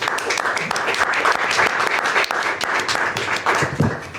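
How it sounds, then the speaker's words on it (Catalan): An audience at a presentation on thermal water after breast cancer gives lively applause, brisk clapping that rises and dips slightly across its length, close and fairly loud with no talk over it. "Em permeteu fer l'aplaudiment, també?"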